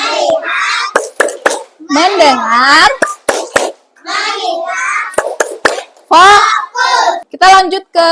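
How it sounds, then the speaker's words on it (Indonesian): A primary school class performs a rhythmic focus-clap routine, with quick bursts of hand claps in a set pattern alongside children's and a teacher's voices chanting and speaking. "Tepuk fokus."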